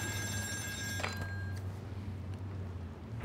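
A telephone rings inside the admin area of an offshore oil rig in the horror game Still Wakes The Deep, a shrill electronic bell for about a second and a half, then cut off, over a steady low industrial hum.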